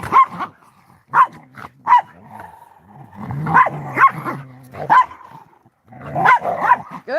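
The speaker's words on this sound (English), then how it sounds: "They're such happy dogs." Several happy dogs bark, yip and whimper in loud, irregular bursts close by, with short gaps between barks and no talk over them.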